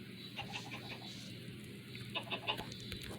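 A chicken clucks in Minecraft Bedrock Edition, a few short soft clucks in two small bursts over a steady low background hum, with no talking.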